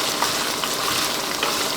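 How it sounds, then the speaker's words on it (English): Onions and garlic sizzle in a pan while a lasagna sauce is made from scratch, a steady close frying crackle with a few small pops, continuous and without speech. "The onions and garlic are cooking down"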